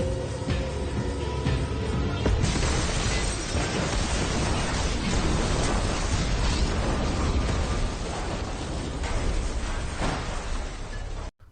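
A warehouse blown up by a gas cylinder set alight, in the Breaking Bad film El Camino: a loud, dense roaring blast that swells after a couple of seconds and rumbles on with crashing debris before cutting off abruptly.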